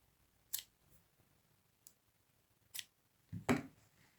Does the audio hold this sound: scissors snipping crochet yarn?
yes